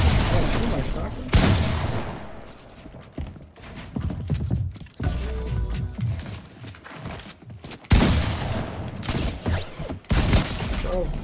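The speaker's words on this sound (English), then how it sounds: "shoot my shotgun" Shotgun blasts and weapon handling in Fortnite OG ranked play, several sharp loud reports spaced seconds apart amid clicking mechanisms and game effects, with a player talking over them.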